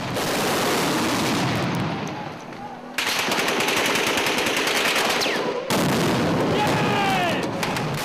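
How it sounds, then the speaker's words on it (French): Loud exchange of heavy gunfire in a cannon duel during fighting near Tripoli, with bursts of rapid automatic shots and booms, two short lulls breaking the barrage, and faint shouting voices in between. "C'est un duel au canon qui s'engage."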